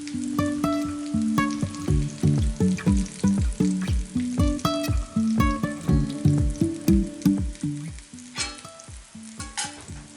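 Vegetables fry in oil in a cast iron pan, with a steady sizzle and a quick, rhythmic run of scraping stirs nearby that continues for about ten seconds and thins out toward the end. No one talks.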